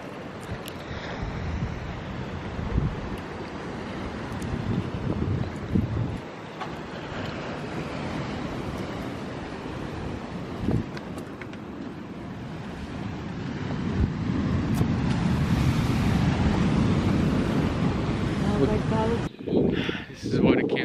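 Ocean waves wash against a rocky shore as wind buffets the microphone, a continuous rough roar and rumble that swells louder toward the end, with people talking faintly now and then.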